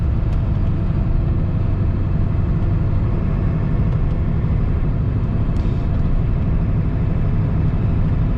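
A 1996 Ford F-350 7.3 truck engine drones steadily while driving, a loud, continuous low rumble with road noise and no voices throughout.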